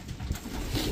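Freshly bathed pigeons in a loft give a brief, soft, low cooing murmur, close and continuous, with no voices.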